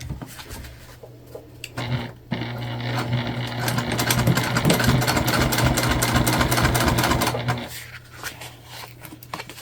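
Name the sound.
sewing machine topstitching waterproof canvas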